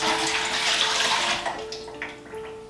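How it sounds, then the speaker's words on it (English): Water from a tap rushing into a Presto 23 quart pressure cooker, a steady hissing pour that thins and splashes near the end, close and alone without talk. "So let's get some water in it right now."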